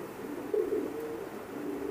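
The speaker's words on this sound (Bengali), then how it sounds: "এটাও টেডি 128-এর একটা মেল কবুতর" A male imported Teddy pigeon with an Oman leg tag gives a faint, soft, low cooing murmur that rises briefly near the middle, heard against steady background hiss with no voices.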